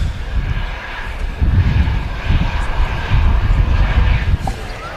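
A jet airliner's engines roar steadily at Manchester Airport, a loud continuous broadband drone with a faint whine, close by and unbroken for the whole stretch.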